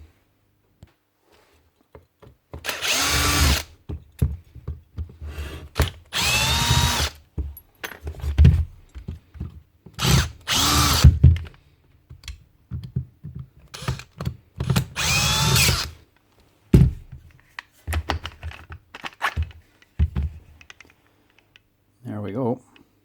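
A Milwaukee grinder with a seized, trashed bearing is spun in several short, rough bursts of harsh grinding noise, close and loud, with quiet gaps and scattered clicks and handling between them, and a voice talking in places.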